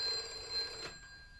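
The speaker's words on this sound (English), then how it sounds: "The telephone is ringing, Carstairs." A telephone rings in a radio drama: a faint electronic warble lasting about a second, fading out with no voices over it.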